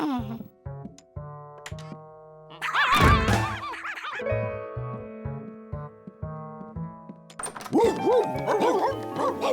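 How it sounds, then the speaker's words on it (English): Cartoon dogs bark and yip in a couple of short, loud bursts over a bouncy music score in a Curious George episode. "George, there are like 20 dogs in here"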